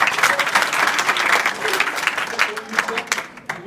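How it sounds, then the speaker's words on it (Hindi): Lively applause fills a school hall for a student at a school event, many hands clapping loudly and close, with bursts and uneven peaks before fading toward the end, while voices mingle underneath. "जोरदार ताली बजाए"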